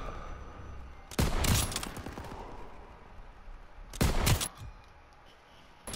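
Two bursts of rapid gunfire crackle in the World War II shooter game Call of Duty: WWII, each volley sharp and dense, separated by a stretch of quieter ambient battle noise.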